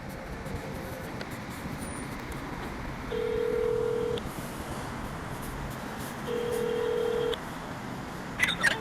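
A phone places a call with steady, evenly spaced ringback tones, repeating twice over a constant background hum, with a few faint beeps at the end.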